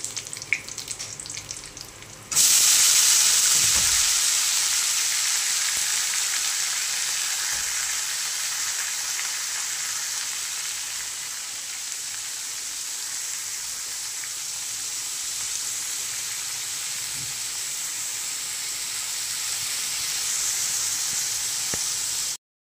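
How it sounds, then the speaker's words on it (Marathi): Cabbage with garlic sautéing in oil for a Marathi-style bhaji, a quiet start giving way to a loud, continuous close sizzle that holds steady throughout, with no talking. "मस्त असं तेलात परतून घेऊ।"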